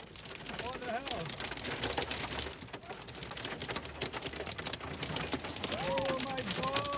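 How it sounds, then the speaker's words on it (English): Hail pelts a service station in a dense, continuous clatter of sharp impacts, heavy and unbroken throughout, with a few brief high squeaks or cries mixed in. "This is a YouTuber, Sean Alexander, who was caught in the middle of this hailstorm"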